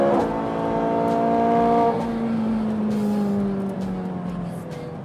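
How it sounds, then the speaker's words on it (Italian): Ferrari 430 Scuderia accelerating hard, a loud, close engine note rising in pitch, dropping sharply at a quick gear change and then climbing again. "Cambio in prima, schiacciamo tutto e andiamo via."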